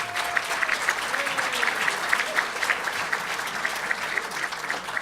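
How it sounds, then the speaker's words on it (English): An audience claps for Illinois State Senator Daniel Biss at a pension panel, steady sustained applause from a room of people. "Give him a round of applause."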